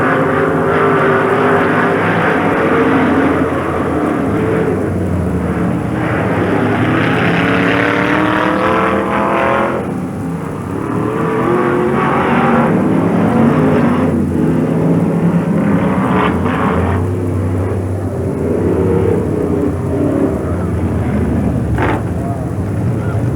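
Sprint cars race around Sportsman Speedway in Knox, Pennsylvania, in 1994, a loud continuous engine roar that rises and falls as cars pass, heard under an announcer's voice.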